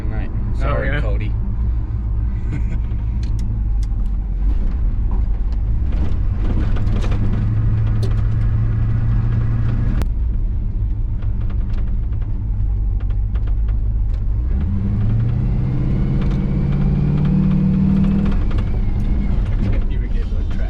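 Chevy C10 squarebody truck revving hard and spinning its tires, engine rising in two loud surges that climb in pitch, with people talking over the roar.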